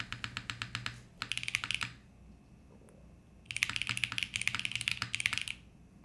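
Clicky typing on a small custom-built mechanical keyboard, close up: a short burst of keystrokes, a pause, then a longer quick run of taps, with no talk.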